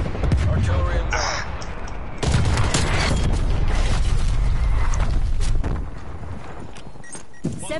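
Artillery fire booms in a video game as loud, heavy bursts and rumbling blasts that swell and fade, with a voice speaking over parts of the barrage.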